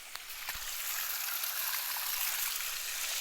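Water pouring out of a farm irrigation channel in hot weather, a steady close rushing hiss with a few faint splashes at the start.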